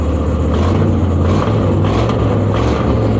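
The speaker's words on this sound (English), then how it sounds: "I have been wanting to hear those pops for such a long freaking time" Modified truck engine revving loud and close, a steady rumbling exhaust roar with rough bursts and crackles suggesting exhaust pops between surges, no voices.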